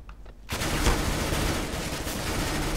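Automatic weapon fire in Counter-Strike: Global Offensive, a dense, loud, continuous stream of shots that bursts in after a brief quieter moment and keeps going to the end.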